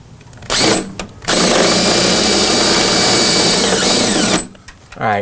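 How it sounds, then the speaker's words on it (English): A power drill bores pilot holes through the sheet metal of a Defender speaker grill on an Atari Cloak & Dagger arcade cabinet, a short burst then a sustained loud whine for about three seconds, close up, with a voice briefly around it. "All right, I got my drill. So why don't we go ahead and do some pilot holes here."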